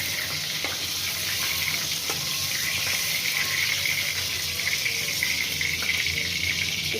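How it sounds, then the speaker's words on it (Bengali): Pointed gourd (potol) frying lightly in oil for aloo potol macher jhol, a steady close hiss and sizzle running throughout with faint scraping stirs, no voices. "হালকা করে ভেজে নিলাম, বেশি খুব লাল করে ভাজবো না"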